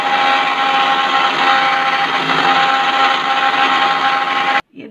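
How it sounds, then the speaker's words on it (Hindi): A kitchen mixer grinder churns thick curd with sugar in one continuous loud whirring drone that stops abruptly near the end, with no voices. "अब इसको हम मिक्सर में ग्राइंड करेंगे।"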